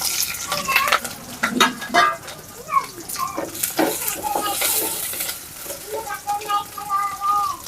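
Dried red chilies, green chilies and onion pieces frying in hot oil, with a crackling sizzle broken by bursts of loud stirring and scraping in the pan, heard up close.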